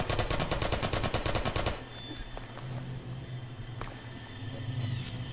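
Rapid automatic gunfire in Half-Life 2 MMod, a fast, loud burst of evenly spaced shots for under two seconds, then scattered fainter shots over a rumbling battle background.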